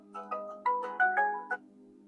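A mobile phone ringtone plays a short, bright electronic melody of several rising tones, clear and fairly close with no voices.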